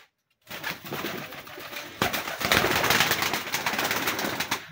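A pigeon coos nearby, a soft murmuring call that starts after a short silence and continues over a constant hiss.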